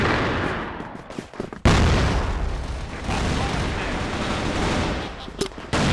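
A frag grenade goes off in the Crossfire shooter game: a sharp, heavy boom bursts in after a moment of scattered shots, followed by a long rumbling tail and more distant gunfire.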